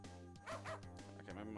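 A dog in a video game barks in a series of short, loud yaps with a strong harmonic tone, coming in quick bursts against a steady game music drone.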